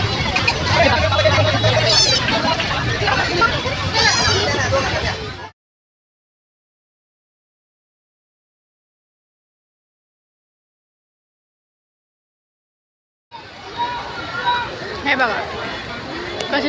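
Crowd babble at a busy zoo entrance comes as a steady murmur of many voices, with a nearby speaker talking over it. It cuts out to silence for about eight seconds, then resumes.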